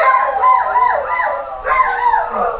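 Several dogs howl together in long, wavering overlapping wails, close and loud and sustained throughout, with a few yips mixed in and no talk over them.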